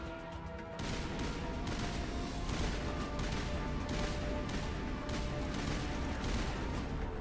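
An explosion in the video game Mass Effect bursts in suddenly, followed by a dense, sustained roar of blast debris and combat noise that stays loud and unbroken for several seconds.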